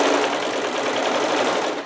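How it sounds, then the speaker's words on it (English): A serger whirs continuously at high speed while trimming the seam allowance on fabric for a Hawaiian shirt, loud and close, then slows at the end. "So we'll serge, we'll take off a little bit"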